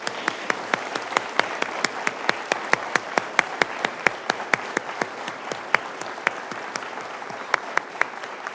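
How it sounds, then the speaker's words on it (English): Sustained applause from an audience at a 5th Advanced Training Squadron graduation ceremony, dense steady clapping with a few sharp individual claps standing out, filling the whole stretch at moderate level without any talk. "Let's give them one last round of applause."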